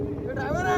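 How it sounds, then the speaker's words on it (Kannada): A tractor engine running on a road during a temple fair, a steady low droning hum with a rising tonal whine, heard briefly up close. "ರೋಡ್ ಮೇಲೆ ಟ್ರ್ಯಾಕ್ಟರ್ ತೆಗಿರೋದು ಯಾರು"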